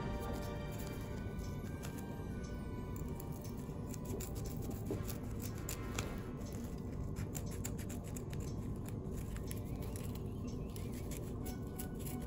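Scissors snip through felt ribbon in a quiet, close series of crisp, rhythmic cuts, with faint rustling of the material between the closing blades.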